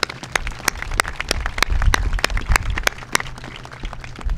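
An audience gives a round of applause, sharp individual claps standing out over a thinner spread of clapping, close and fairly loud with no talking.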